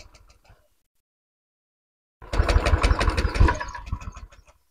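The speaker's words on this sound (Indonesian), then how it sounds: "ini saya startnya sudah jalan terus, tapi mesin belum mau hidup ya" A fuel-injected Honda Beat motorcycle with a sputtering fault cranks on its starter for about two seconds without catching, giving a loud, dense, steady whirring grind close by that stops abruptly, with no talk over it.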